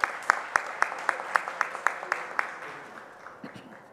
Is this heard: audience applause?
yes